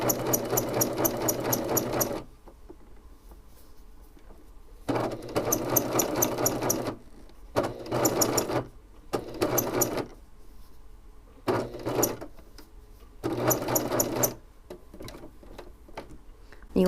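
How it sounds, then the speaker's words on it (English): A sewing machine stitches a knit fabric neckband in the round, running in several short bursts of steady rapid ticking with pauses between them, close and clear. "I'm just going to help feed my fabric through, but make sure it does not get cut by the knife"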